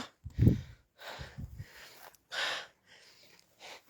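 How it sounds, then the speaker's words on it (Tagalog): A man pants heavily while climbing one of the highest mountains near Taif, Saudi Arabia: a run of close, uneven gasping breaths separated by short pauses. "hinihingal ako"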